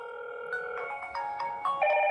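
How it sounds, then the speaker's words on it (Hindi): A Hikvision DS-KIS602L IP video door phone rings with a bright electronic chime of several stepped tones in a rising, repeating pattern, clear and alone with no talk. "अभी वीडियो डोर फोन से यहाँ से हम बेल बजाते हैं ओके बेल उधर जा रहा है"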